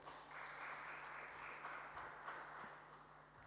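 Audience at an international city gas and pipeline industry conference applauds a speaker taking the dais, a steady wash of clapping that is moderately loud and continuous over a low electrical hum.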